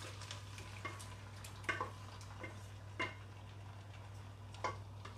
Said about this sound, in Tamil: ஸோ இதை இப்போ ஒரு வாட்டி மிக்ஸ் பண்ணி விட்டுடலாம்